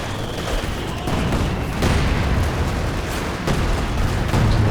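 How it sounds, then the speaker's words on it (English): Base howitzer artillery in Company of Heroes 2, a dense run of booming shots and impacts repeating every second or so over steady rumbling battle noise. "Using the base howitzers."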